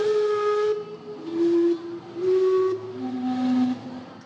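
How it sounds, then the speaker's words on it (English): The steam-powered clock in Vancouver sounds its whistles in a loud, close, tuned sequence of four sustained breathy tones with shifting pitches, each note held about a second, with no talk over it. "This world-renowned clock, running partially on steam, was built to mark that moment"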